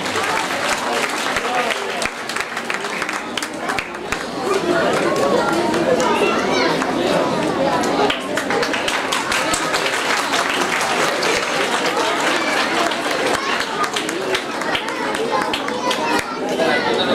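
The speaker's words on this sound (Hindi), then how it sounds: "आप सबकी भरपूर तालियों में बिलाल अहमद और उनके वालिदैन" Audience applause at an Islamic school's student ceremony, broad sustained clapping filling the room with crowd chatter mixed in.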